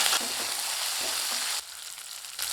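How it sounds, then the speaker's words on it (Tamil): Small onions with pepper and cashews sauté in a pan for mutton gravy, giving a brisk, close sizzle that drops noticeably quieter partway through. "நூறு கிராம் பக்கம் சின்ன வெங்காயம் உரித்து எடுத்து வச்சுருக்கேங்க நூறு கிராம் கொஞ்சம் கூடுதலாக இதையும் சேர்த்து நல்லா வதக்கி வச்சுக்கலாம்"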